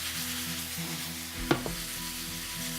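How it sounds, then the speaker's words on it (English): Eggplant sautés in sesame oil, a soft, even sizzle close by, with one brief clatter of a utensil against the pan midway and no voices. "that eggplant sauteed as well"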